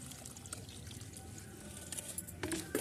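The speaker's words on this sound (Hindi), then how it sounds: "अब मैं ये फर्टिलाइज़र उसमें देती हूँ पौधों में।" Liquid fertilizer water poured onto potted rose plants, a soft continuous trickle and splash close by, ending with a few brighter drips.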